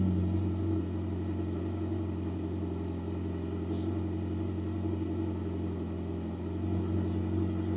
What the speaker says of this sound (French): Et donc là, on va la démarrer, celle-ci, et vous allez voir que ça fait beaucoup moins de bruit que celle-là.